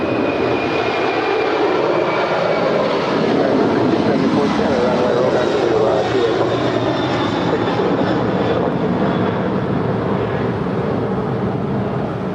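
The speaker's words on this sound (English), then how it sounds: "That is Qantas Freight 7552 departing to Honolulu. It's a 747-400 freighter." A Qantas Freight Boeing 747-400 freighter departing Los Angeles airport for Honolulu makes a long, loud, broad jet roar that swells and holds at full strength.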